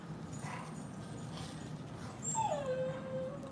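A small dog whimpers and lets out a high, wavering yip near the end, faint over a low background hum in an indoor nail-salon setting, with no voices.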